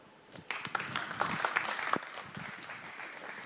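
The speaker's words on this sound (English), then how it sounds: "Please, a warm applause." Audience applause at a blockchain talk in Liechtenstein, a moderate patter of hand clapping rising quickly, peaking briefly, then settling into softer, steady clapping.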